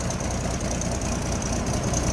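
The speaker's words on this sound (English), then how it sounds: "And there's your inline 6. You can see how smooth that thing runs." A 1974 Toyota Land Cruiser FJ40's inline-six engine idles steadily with the hood open, a smooth, even, continuous rumble heard close up with no talk over it.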